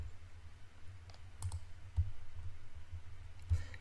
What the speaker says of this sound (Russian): Кликнув правой кнопкой мыши по графику